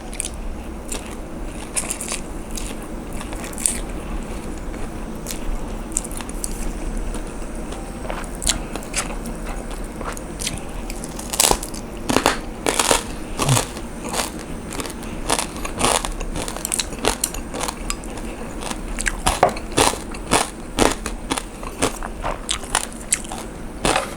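Crispy pork is bitten and chewed up close, giving repeated sharp crunches and crackles that grow denser over the stretch, with no talking.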